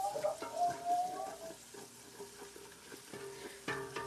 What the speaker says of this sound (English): we're going to give that a stir right on in there, just like so